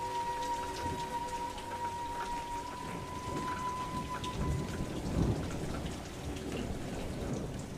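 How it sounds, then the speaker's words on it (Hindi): Steady rain falls in a cartoon storm, with low thunder rumbling underneath, fairly soft and continuous without any voices. "पता नहीं बारिश कब रुके"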